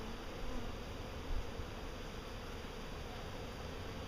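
Honey bees buzzing steadily during a hive check, a dense, even drone close by with slight swells, no voices.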